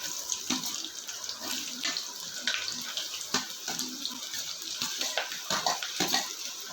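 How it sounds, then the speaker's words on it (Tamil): Sliced onions fry in hot oil in a pan for a Sunday lunch, giving a steady, fairly faint sizzling hiss with small crackling pops throughout and no talking. "எண்ணெயில் போட்ட வெங்காயம் பொன்னிறமாக வதங்குற வரைக்கும் நம்ம நல்லா வதக்கலாம்."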